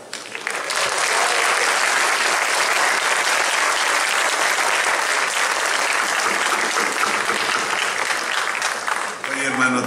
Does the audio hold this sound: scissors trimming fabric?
no